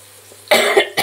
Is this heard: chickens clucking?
no